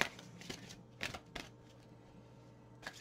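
Tarot cards being shuffled for a three-card draw, heard as several short riffling bursts spaced apart over quiet room tone, fairly soft and close, with no talking.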